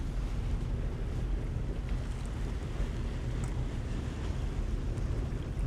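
A Windy 48 Triton motor yacht underway with the port engine in forward gear, giving a steady low engine drone mixed with wind and water rush, continuous and moderately loud.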